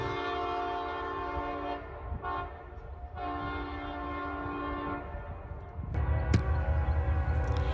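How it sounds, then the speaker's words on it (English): A geometry train barrels through Cedar Hill, its horn sounding in long sustained blasts with a short gap, then the rumble of the passing train swells louder near the end. "a geometry train booking it through Cedar Hill"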